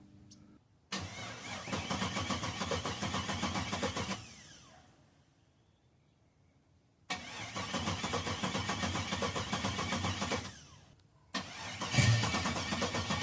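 An LS-swapped 1985 Oldsmobile Cutlass engine cranks with a rapid, grinding starter whir in three separate attempts, each lasting a few seconds with pauses between, the last catching briefly.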